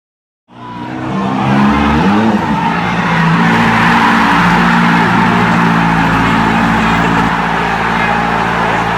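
A Kawasaki Ninja ZX-4RR motorcycle engine revs loudly and steadily, with a tire skid as it brakes hard, continuous and close throughout.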